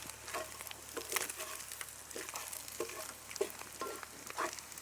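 Green chillies sizzling in hot oil with soft, irregular popping and crackling, fairly quiet and steady, no voices.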